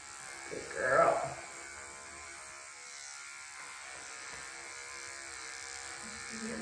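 Electric dog grooming clippers buzz steadily and close by on a Shih Tzu mix's coat, with a brief louder burst near the start, continuing as a constant hum throughout.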